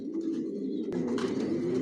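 Silver racer pigeons coo close by in a continuous low, throaty burble that swells slightly near the end, with no one talking.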